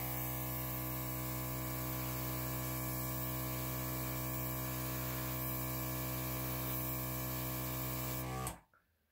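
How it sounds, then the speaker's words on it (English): An airbrush blows a steady hiss of air onto wet acrylic pour paint, a continuous close broadband rush with a faint electric hum beneath, running unbroken until it cuts off abruptly near the end. "now I'm going to take the airbrush and let's see what happens."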